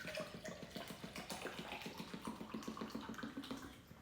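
Water runs steadily from a tap into a cup from a Costco set, a continuous close splashing with a rising pitch as the cup fills, no voices.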